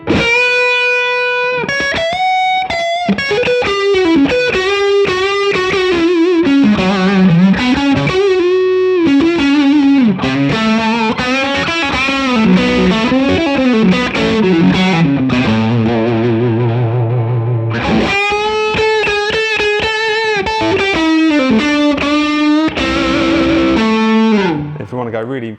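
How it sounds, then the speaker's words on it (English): Fender Custom Shop Stratocaster played through a Sugar Drive overdrive pedal into an amp, loud, close melodic lines and chords with a warm, driven tone, playing continuously alone. "Now I'm going to switch on this Sugar Drive. It's become one of my favourite overdrive pedals for a Strat"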